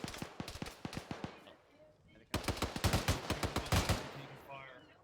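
Gunfire during a military field training exercise, a rapid run of sharp automatic shots, then a short lull before a second, louder and denser burst with overlapping rounds, fairly close, with faint voices in the background.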